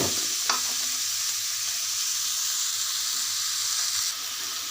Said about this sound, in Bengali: ফুলকপি আলু দেখুন আমি ভালো করে নাড়িয়ে নেব